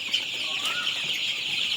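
Domestic chickens cluck in a farmyard, with a dense, continuous bird chatter that stays at a steady level throughout and one brief rising call near the middle.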